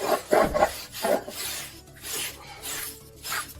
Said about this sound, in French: Je vais essayer avec une brosse à main pour voir.